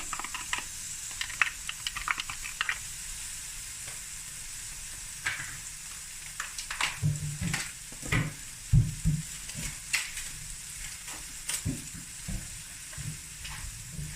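Garlic and ginger sizzle in a pan with a soft, steady hiss, broken by close scrapes and taps of stirring.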